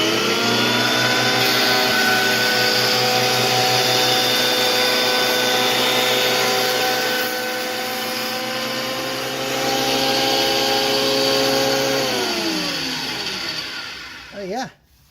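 PerforMax 12.5-inch thickness planer running a test cut, a loud steady motor whine with cutter noise that holds for about twelve seconds, eases as the board clears, then ends with a brief spin-down.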